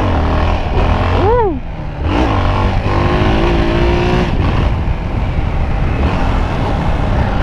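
Yamaha XT trail motorcycle revving during a wheelie, engine note rising and falling in sharp swoops with a sustained high pull, close and loud, with other bikes and street noise nearby.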